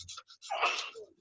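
A single close sneeze bursts out, with a short breathy lead-in before the sharp explosive release that quickly trails off.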